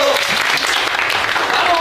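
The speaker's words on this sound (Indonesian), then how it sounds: "jadi gue mau semangatnya boleh tepuk tangannya dulu." High school students clapping their hands together in a room, a loud burst of dense applause filling the short moment, with voices mixed in.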